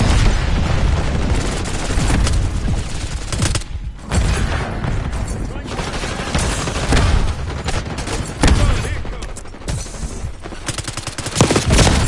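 Flashbang grenade and surrounding gunfire in a military shooter video game, dense loud bursts of shots and booms repeating throughout with no pause.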